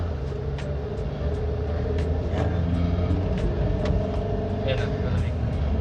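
A Toyota Avanza's 1.3-litre Dual VVTi gasoline engine runs with a steady low rumble and drone, heard from inside the vehicle, with someone talking over it.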